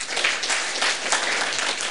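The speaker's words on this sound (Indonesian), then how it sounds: "Tepuk tangan untuk Pak Miki." Steady audience applause at a church gathering, dense clapping from many hands that stays loud and even throughout.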